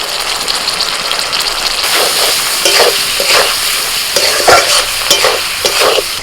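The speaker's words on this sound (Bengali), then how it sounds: "ধনে জিরে লঙ্কা হলুদ আর নুন একসাথে দিয়ে দিচ্ছি" Ground coriander, cumin, chili, turmeric and salt go into a hot frying pan, setting off a loud, continuous sizzle with repeated stirring scrapes close by.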